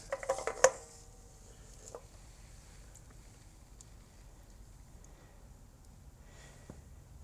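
A short burst of metallic clinks and clatter comes as the oil filter is pulled free from a BMW R1150GS motorcycle, followed by a near-silent workshop.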